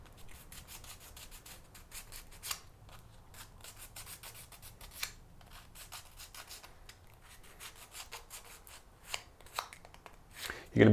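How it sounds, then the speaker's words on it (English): Sandpaper scuffs packraft fabric in quick, uneven strokes, a dry close rubbing rasp with irregular louder swipes, faint and steady throughout with no speech. "So if we just give it a quick sand, and this is to make sure the glue sticks to it nicely."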